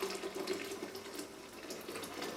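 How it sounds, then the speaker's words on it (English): Coffee pours steadily into a Vitamix blender jar for a Bulletproof coffee, a soft continuous liquid splash heard alone and fairly close. "let's pour in the coffee first."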